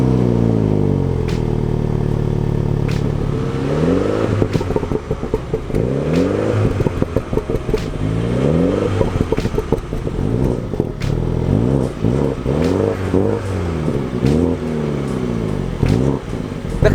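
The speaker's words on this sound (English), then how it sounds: "The car definitely makes all the right noises. It has pops, crackles, bangs." A 2019 Mini Cooper JCW Hardtop revs repeatedly, its engine note sweeping up and down in loud rising pulls, with sharp exhaust pops and crackles bursting between the revs, close and continuous throughout.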